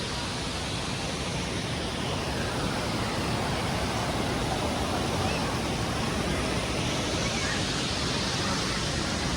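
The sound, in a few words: flowing river water at a bathing place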